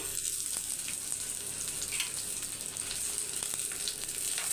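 Onion frying in ghee in a pan, a steady, even sizzle that carries through without a break, with faint crackles and the odd soft scrape of stirring and no voices.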